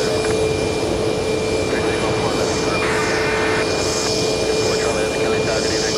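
A KLM Boeing 787 takes off at JFK airport, its jet engines giving a loud sustained roar with a steady tone, while a voice talks over it.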